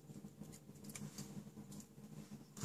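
Scissors trimming the edge of a sheet of cardstock, a series of quiet, close snips and papery scratches in an uneven rhythm with no voices.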